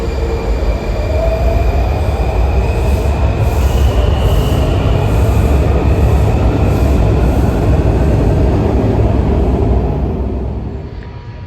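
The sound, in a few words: metro train at station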